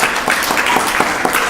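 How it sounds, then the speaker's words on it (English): Short burst of steady audience applause at a temple Sunday feast in Phoenix, a dense patter of many hands clapping together for a birthday celebration. "So please give them a big round of applause also."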